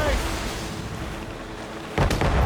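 Ship cannons firing during a naval battle in Assassin's Creed Rogue: a rumbling, noisy roar gives way to a sudden loud broadband blast near the end.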